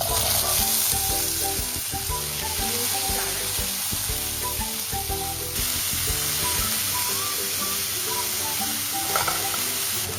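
Green peas and carrots sizzling in a hot pan for prawn fried rice, a steady loud frying hiss with occasional scrapes of stirring, close up and without talk.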